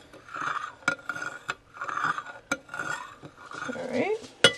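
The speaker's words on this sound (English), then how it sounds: "I'm just kind of gently stirring it for the salt" Bread dough mix with eggs gently stirred in a bowl, soft intermittent scraping and sloshing strokes with a few sharp clinks of utensil against the bowl, close and quiet.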